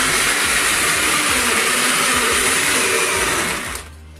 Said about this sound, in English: I'll just blend it